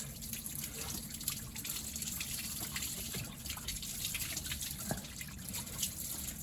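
Cooling water drains steadily from a Volvo Penta TAMD41-P marine diesel engine, a continuous close trickle and splatter with a few brief louder drips and no talk.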